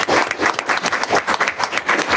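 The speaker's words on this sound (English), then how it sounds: "So one more round of applause for our friends." Applause from a small group gathered at a school board meeting in a meeting room, a steady patter of clapping hands lasting a couple of seconds, fairly close and moderately loud.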